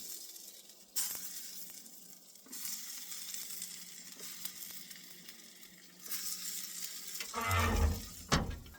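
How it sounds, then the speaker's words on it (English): Beef-wrapped asparagus cooking in a little oil on a barbecue gives a faint, steady sizzle that swells into louder crackling bursts toward the end. "So we'll put them on the barbecue with a little bit of oil and let them cook away."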